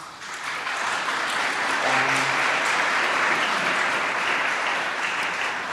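Audience applause welcoming guests at a festival debate, building quickly and holding dense and steady before tapering slightly, with a brief tone briefly heard midway.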